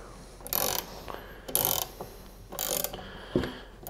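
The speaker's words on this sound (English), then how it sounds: "we're gonna start turning that down, putting pressure on the crank" A crankcase splitter tool is turned on the crankshaft of a Honda XR250R, giving four short, close bursts of metallic ratcheting clicks spaced about a second apart, with quiet pauses between.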